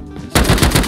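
Rapid automatic gunfire from an AK rifle in the survival game Rust, sudden bursts erupting loud and close after a quiet lead-in, with a steady rattling rhythm of repeated shots.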